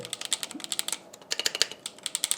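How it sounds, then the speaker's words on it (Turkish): Fast bursts of typing on a hollow-case aluminium MetLite 60 keyboard, crisp, slightly empty-sounding clacks in quick clusters, close and distinct, with a short pause mid-way. "Arka tarafı falan boşluklu, böyle kasası boş ama alüminyum bir klavye."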